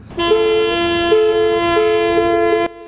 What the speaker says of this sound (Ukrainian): Під супровід автомобільних клаксонів